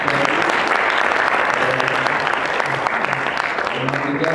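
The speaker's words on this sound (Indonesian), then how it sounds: "tepuk tangannya" An audience at a student board election debate applauds, a loud, dense and continuous roar of clapping that fills the space, with voices murmuring underneath.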